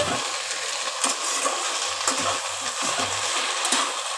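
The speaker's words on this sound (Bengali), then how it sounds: "পেঁয়াজের সঙ্গে ভালো করে নেড়ে নেবো" Onion frying and being stirred in a pan for a jute leaf dish, a steady loud sizzle with scraping stir strokes throughout, close up and with no talk.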